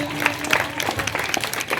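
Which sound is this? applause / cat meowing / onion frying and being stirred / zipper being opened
applause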